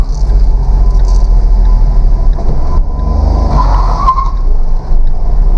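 A small 1000 cc car on a very steep street in Bogotá spins its tires and fails to climb. The engine drones loudly under repeated tire squeals and skidding, with no talk.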